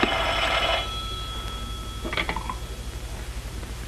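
An old-fashioned telephone bell rings in a 1930s office scene, a steady ringing burst in the first second followed by a shorter ring near the two-second mark, with low background hum.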